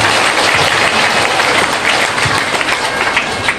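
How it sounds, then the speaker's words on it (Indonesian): An audience at an investment company gathering in Indonesia claps for themselves, a loud, close, dense burst of applause that holds steady throughout. "Silakan tepuk tangan buat diri Anda sendiri."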